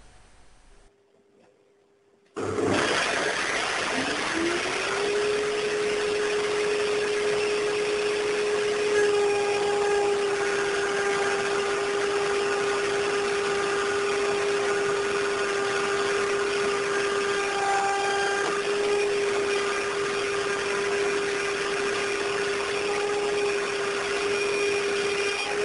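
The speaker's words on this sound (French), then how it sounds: "Le procédé me permet de réaliser facilement une feuillure sur toute la longueur de mon morceau de bois" A table-mounted router spins up after a brief pause and holds a steady, high-pitched whine while cutting a rabbet along a length of wood, running continuously at close range with no talking.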